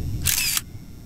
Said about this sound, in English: Camera, take a picture right there.